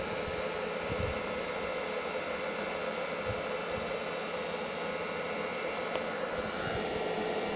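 A car heater fan blows warm air with a steady, even whooshing rush, joined by a few faint low thumps and no voices.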